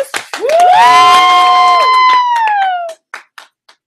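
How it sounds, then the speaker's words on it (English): A seated audience at an evening training session bursts into loud cheering and whoops with some clapping, a long sustained high shout carrying for about three seconds before dropping off into a few scattered short calls. "please stand for a round of applause"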